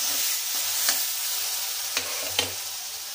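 Tamarind juice sizzling in a frying pan while gojju cooks, a steady close hiss with a few light scraping stirs, no talking.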